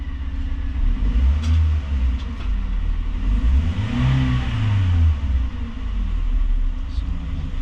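A Toyota Rush engine with a check-engine fault (code P0014) idles with a low rumble, then revs up and settles back down once in the middle, steady and close.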